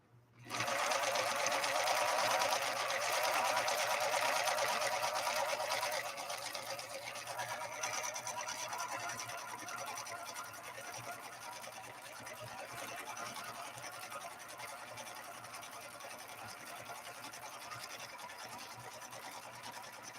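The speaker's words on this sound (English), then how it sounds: "we're sewing upholstery material using a leather needle, a size 90-14 by Schmetz" A Viking Husqvarna 3230 sewing machine with a size 90/14 Schmetz leather needle stitches upholstery fabric in a steady, continuous mechanical whir lasting about twenty seconds. It is loud at first and eases slightly partway through, with no talking.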